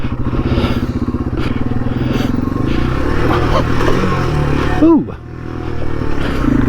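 A Yamaha TW200 motorcycle chugs over rough, bumpy ground, its engine thumping steadily up close with rattles and jolts from the bumps, and a rider exclaims briefly midway.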